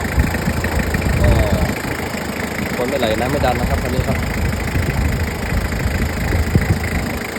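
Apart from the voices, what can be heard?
2500cc diesel car engine idling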